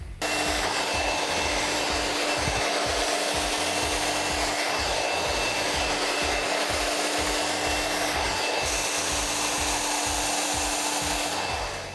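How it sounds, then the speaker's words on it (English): A hair dryer blows continuously and loudly at close range while hair is blow dried, its steady whirring hum broken by rhythmic brushing and rubbing strokes through the hair. "once I've finished blow drying a section"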